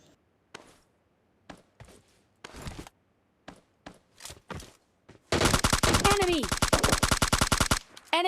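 Gunfire in a mobile battle-royale shooter: several separate single shots and short bursts ring out at first, then a long rapid automatic burst, likely from an M4 rifle, rattles loudly for a couple of seconds.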